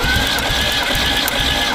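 An engine cranks over steadily on the starter with the throttle held wide open during a compression test, a loud, even, rhythmic churning with repeating pulses and no voices.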